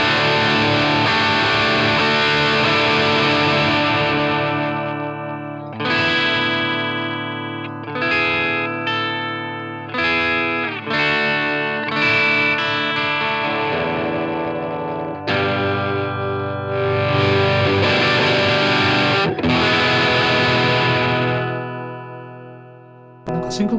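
An electric guitar played through a Line 6 Catalyst amplifier with a warm, tube-like overdriven tone, sustained chords and phrases ringing with effects, loud and close, with short gaps between phrases.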